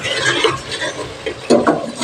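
A spoon scraping and stirring mutton trotters in bubbling ghee in a pot, continuous close scraping with a louder clatter near the end, no talk.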